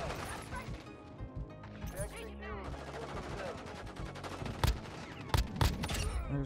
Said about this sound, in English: let's start with the SVA545 and get 3 kills and 1 mag to unlock it